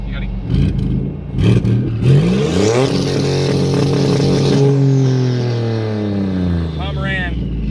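A turbocharged car on two-step launch control, its engine loud and near, revving up in a rising sweep, holding high, then easing down, while people talk over it.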